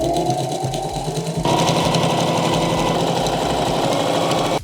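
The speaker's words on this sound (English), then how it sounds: "Now I'm gonna sew my first 2 straight lines." A sewing machine runs steadily, stitching straight seams on the front of a pair of jeans, its fast motor whir and needle clatter loud and close. The pace picks up after a brief slower start and holds continuously to the end.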